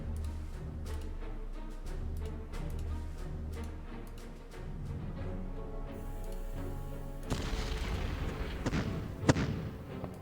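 Artillery barrages in the wartime strategy game Decisive Campaigns: Case Blue, a run of sharp repeated booms and thuds over a steady low rumble, growing denser and louder toward the end with one strong blast near the close.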